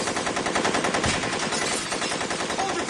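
Rapid sustained machine-gun fire rattles loud and close in continuous automatic bursts, with no talking over it.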